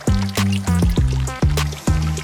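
Water pours and gurgles into a garden pond in a snowy backyard, a close, loud series of bubbling, glugging bursts that repeat in a steady rhythm roughly every half second.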